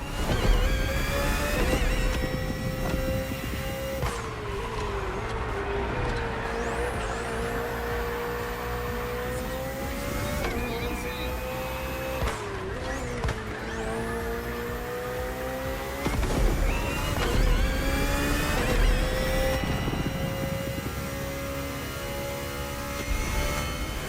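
BMW hybrid V8 race car in The Crew Motorfest, engine revving high and loud, climbing through gears with sharp shift drops, sustained for over twenty seconds without talk.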